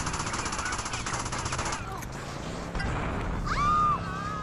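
Shotgun fire in the PC version of the game GTA Liberty City Stories: dense, loud blasts crowd the opening seconds, then a sharper burst follows among game effects and a rising electronic whine.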